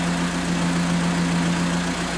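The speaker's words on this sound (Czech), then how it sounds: "Nastartovaný motor běží pravidelně" A car engine idles after a valve clearance adjustment, running with a steady, even low hum and a constant tonal drone, close and uninterrupted.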